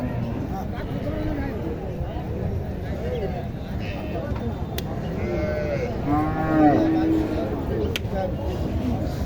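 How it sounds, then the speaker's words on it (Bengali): A Sahiwal calf moos several times at a cattle market, over steady background murmur and distant voices, with a drawn-out, rising call near the end. "দেখেন শাহিওয়াল বাছুরটি শাহিওয়াল"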